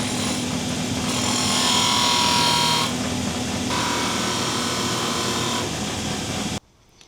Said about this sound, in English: I'll start sanding them.